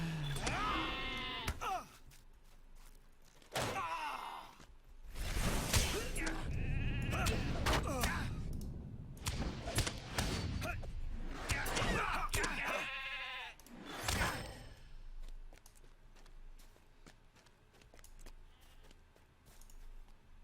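Several sheep bleat in bursts throughout in the video game Lord of the Rings Online, mixed with game sounds and a voice talking over parts of it.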